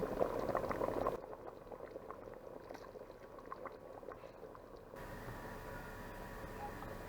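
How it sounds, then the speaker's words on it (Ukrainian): Zucchini, mushrooms and two heads of squeezed garlic bubble steadily in a pot of satsebeli sauce, a soft, continuous simmering hiss that fills the whole stretch with no talking. "Додаємо 2 головки вичавленого чеснику і варимо ще 10 хвилин."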